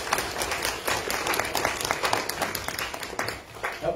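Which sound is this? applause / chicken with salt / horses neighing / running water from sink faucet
applause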